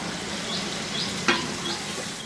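Small pieces of egg fry in a pan for fried rice, making a continuous close crackling sizzle with a few soft stirring scrapes and one sharp clink.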